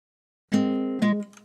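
A single guitar chord from a trap-style guitar loop built in FL Studio rings out clean and close, then is restruck once shortly after and fades quickly, with no talking.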